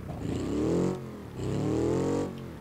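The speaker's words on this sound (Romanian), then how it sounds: "Îmi place cum se aude motorul" Small car engine revving in a video game set on the Moon, two sustained rising-and-falling revs with a short dip between them, loud and close with no talk.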